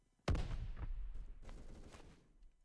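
A single sharp FAL battle rifle shot in the video game Phantom Forces, loud and close with a quick crack, followed by a few softer trailing reports and echo.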